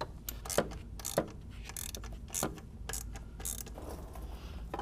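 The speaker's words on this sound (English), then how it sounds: "I'll get in there with a 10 millimeter socket." A 10 mm socket wrench undoes heat shield bolts on a 2002-06 MINI Cooper non-S during clutch work, its ratchet clicking in short bursts of rapid pawl ticks, close and fairly quiet, with no talking.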